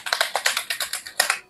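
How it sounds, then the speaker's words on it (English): Typing on a computer keyboard, a quick run of about a dozen crisp, close key clicks in an uneven rhythm with a brief pause near the end, heard alone without talk. "So this keyboard."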